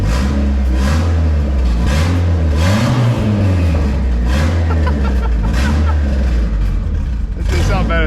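A wrecked Mazda Miata partway through a turbo build runs loud and close, rough engine note with rising and falling revs as voices talk over it throughout.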